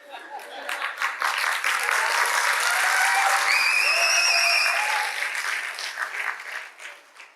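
An audience at a Tamil comedy speech breaks into sustained applause, a dense wash of clapping that swells quickly, holds steady for several seconds, then thins out toward the end, with a faint voice briefly audible within.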